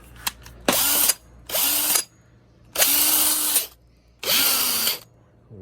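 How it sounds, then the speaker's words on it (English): A Milwaukee hammer drill running on an adapted old-style 18-volt battery fires in four loud, close bursts of roughly a second each, the motor whining up and winding down between short pauses. "Let's try one of these hammer drills."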